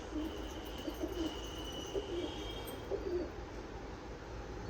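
Soft, low coos from an adult male pigeon and a young female repeat at a steady pace over a constant background hum, with no voices present.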